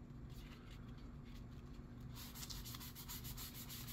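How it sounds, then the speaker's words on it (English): Fingers rub back and forth over the sanded plastic and putty surface of an Estes Hi-Flier XL model rocket, a close, soft, steady friction that grows a little brisker and more textured partway through, with no talking. "Just kind of rub your fingers on it"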